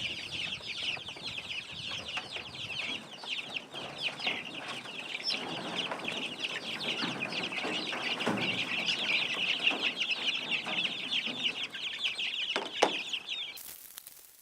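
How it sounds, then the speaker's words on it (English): Chickens clucking and calling steadily outdoors on a cool fall morning, a dense, continuous flock chatter close by with occasional louder squawks, no talking. "But let's get these chickens out."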